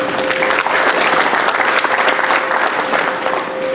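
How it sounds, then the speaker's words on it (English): A crowd at the 25th anniversary celebration of the Indian Ex-Servicemen Immigrant Association breaks into loud, sustained applause for the veterans, dense clapping filling the room steadily from start to finish. "So give them a big round of applause"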